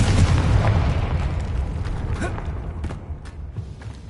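A Confringo fire spell detonates in Hogwarts Legacy with a loud, rumbling boom at the start that decays into crackling debris and scattered impacts over a few seconds.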